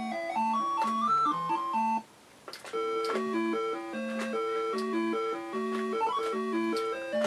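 Rally-X arcade game on a Namco Arcade Classics plug-and-play console plays a loud, bouncy chiptune melody over a steady bass line, with a brief near-silent break before the tune resumes.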